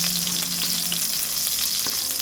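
Garlic sautéing in a hot pan for chicken chopsuey, a loud, dense, continuous sizzle with faint stirring scrapes, close up and without talk.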